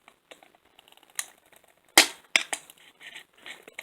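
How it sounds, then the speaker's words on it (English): Scissors chop through the paperboard top of a Barbie doll box in sharp, irregular snips and crunches, one loud cut standing out among smaller clicks, close and with no talking. "So I'm just going to cut this top part off."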